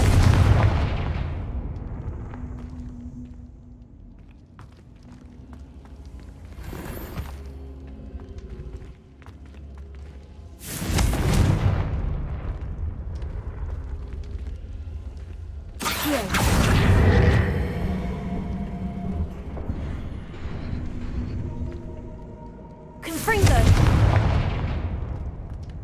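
Confringo fire-spell blasts in the video game Hogwarts Legacy: four loud, booming explosions go off at uneven intervals, each trailing into rumble and clattering debris, with a brief spoken exclamation in the game.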